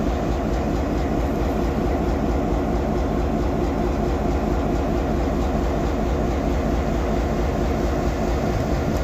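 Rebuilt Maine Central GP7 diesel locomotive, cut down from high hood to low hood and fitted with GP38 electronics, at a railroad museum in Orrville, Ohio; a steady loud engine rumble drones continuously, close by, with no talking.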